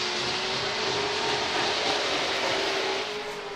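A steady roar of drift cars racing at a Formula Drift Pro Spec event in Grantsville, Utah, 2022, loud and continuous, with a high whining pitch holding constant throughout and no voices.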